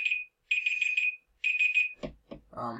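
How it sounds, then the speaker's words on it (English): A high electronic alarm beeps in quick repeated bursts, three rounds separated by short gaps, loud and close, then cut off by a few knocks and a brief voice. "that was my alarm"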